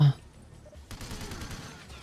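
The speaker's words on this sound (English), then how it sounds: "These explosions are terrible." Explosions and bursts of gunfire from the video game 007: Everything or Nothing, a loud blast at the start, then dense crackling fire and rumbling booms at a steady, busy level.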